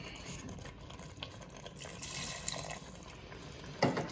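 A little water is poured over curry-coated vegetables in a chicken and vegetable curry, giving a soft, close trickle and splash with a brief louder spill near the end.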